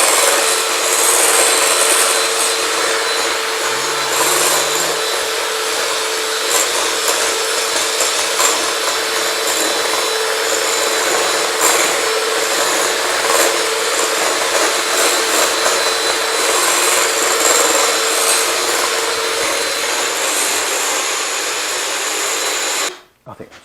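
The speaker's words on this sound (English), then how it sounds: "we're going to whisk it for about 8 to 10 minutes" An electric whisk beats a brownie mixture, a steady, loud motor whir with a rattle that runs almost without pause and then cuts off abruptly at the end.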